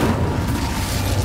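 Incendio fire spell cast in the video game Hogwarts Legacy: a loud, dense roaring whoosh of magical flame with a low rumbling body, sustained and close throughout the short burst, with no voices.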